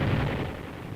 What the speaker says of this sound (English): U.S. weapons went into action against carefully prepared Japanese positions.